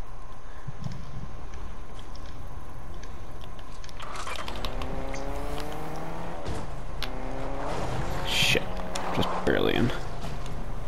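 A car driven in the video game Fortnite, its engine hum turning to a revving, rising tone partway through, with voices talking over it.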